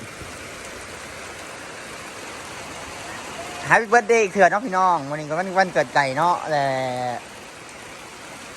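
Steady rain falling outdoors during a storm in Thailand, a soft continuous hiss that runs under someone speaking in the middle portion.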